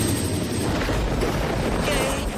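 A loud, steady helicopter drone with rapid rotor chopping from an animated series fills the whole stretch, close and continuous.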